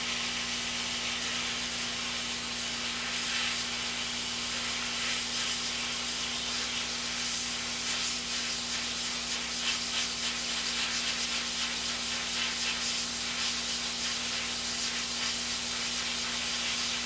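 A heat tool is held against the lock-tight bracket of a Yaesu FT-902DM radio during repair, giving a steady, even hiss that continues unbroken and fairly close for the whole stretch, with a low constant hum underneath.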